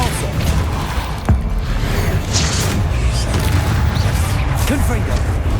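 A Depulso spell cast during a spider fight in Hogwarts Legacy lands with a muffled boom and whooshing impact. A voice speaks over dense, noisy combat effects.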